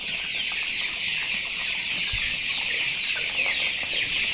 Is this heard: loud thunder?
no